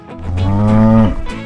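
A single cow gives a loud, close, drawn-out moo that rises and then cuts off, with no talking around it.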